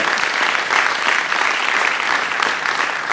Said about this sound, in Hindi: एक बार उनके लिए ताली हो जाए